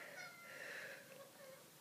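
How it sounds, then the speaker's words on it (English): A kitten meows softly in a drawn-out, faint cry heard alone, rising and fading over a couple of seconds. "she's the cutest kitten in my street"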